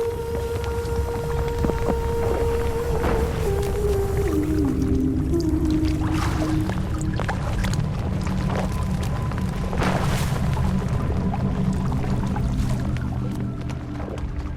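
Swamp recordings from around Berlin blend with a singer's sustained vocal line. The voice drifts and glides downward over a dense, steady low rumble, with scattered soft thumps and splashes throughout.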